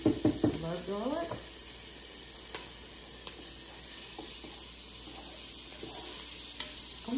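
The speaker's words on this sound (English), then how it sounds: "the next thing that goes in is the garlic" Garlic cloves sizzle in a soup pot while a spoon stirs, sending soft knocks against the pot over a constant hiss. A voice speaks briefly at the start.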